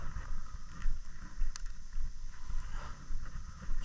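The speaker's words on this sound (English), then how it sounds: "that wind is blowing right in my face" Outdoor wind buffets the microphone on a cold February day, a steady low rumbling roar with gusty swells throughout, loud and close.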